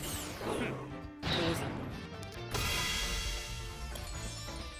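Several heavy crashing bomb blasts in a video game in quick succession, loud and close, with crackling debris trailing off between them.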